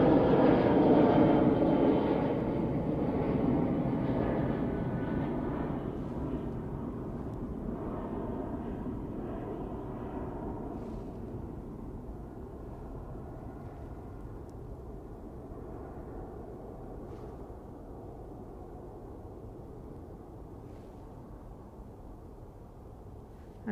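An Emirates airliner at Manchester Airport roars loudly at first, then its jet engine rumble slowly fades into a distant, steady drone.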